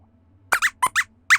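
Squeak, a puppet character in a children's science show, gives five quick, bright squeaks in two pairs and then a single squeak, close and clear over near silence.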